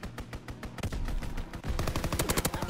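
Enemy aircraft strafe in a WWII video game: loud, rapid machine-gun bursts rattle in quick rhythmic volleys that intensify and thicken toward the end, with no talking.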